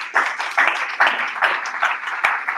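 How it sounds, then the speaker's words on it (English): A crowd applauds at a startup demo day, a steady burst of many hands clapping with a few sharper individual claps standing out, fairly close and unbroken by talk. "Round of applause."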